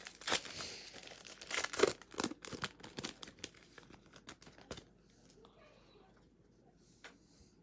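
Foil packs of football trading cards are torn open, one after another. Close crinkling and ripping bursts fill the first few seconds, then fade to quiet rustling.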